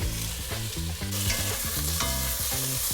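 Beef hits hot oil infused with ginger and is stirred in a pan, giving a dense, continuous sizzle with scraping stirs. Music plays underneath throughout.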